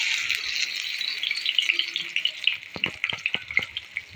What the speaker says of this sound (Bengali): এখন পনিরটা একটু হালকা লাল করে ভেজে নিচ্ছে